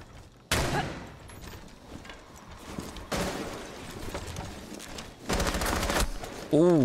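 Gunfire from the video game Rainbow Six Siege, bursts of rapid shots arriving in three separate loud volleys with quieter in-game ambience between them, ending on a short tonal chirp.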